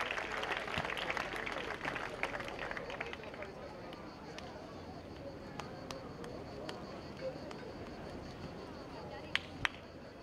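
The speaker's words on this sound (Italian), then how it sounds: "L'applauso del pubblico" Crowd applause and scattered cheering from spectators at the close of a set in a women's beach volleyball final, a steady wash of clapping with a few sharp pops near the end.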